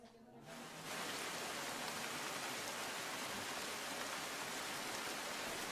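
Heavy monsoon rain over Surat's waterlogged Katargam Hathi Mandir road, a dense, steady roar of downpour that swells in after a brief quieter start and then holds constant with no voices.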